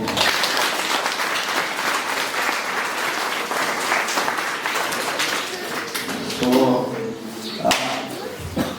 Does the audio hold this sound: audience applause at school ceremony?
yes